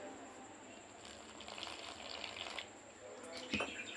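Water poured bit by bit into chapati-style flour dough for onion samosa pastry, a faint, steady trickle running for several seconds with a small splash near the end.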